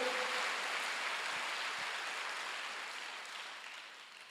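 A church congregation at a Korean Wednesday worship service claps together in a steady, dense wash of applause that slowly fades toward the end, with no voices over it.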